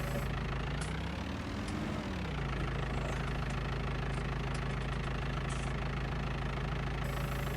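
A tractor engine idles in the Farming Simulator 19 video game, a steady low drone with a brief dip in pitch and then a return to its even hum, plus faint clicks above it.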